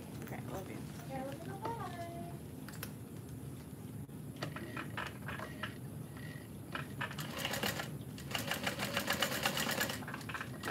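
A sewing machine stitching through the lining of a bowler bag, its whirring motor rising into fast rhythmic needle bursts toward the end, with someone talking quietly over the earlier part.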